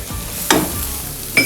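Onion and tomato masala sizzles steadily in a pan, broken by two loud spatula scrapes as it is stirred.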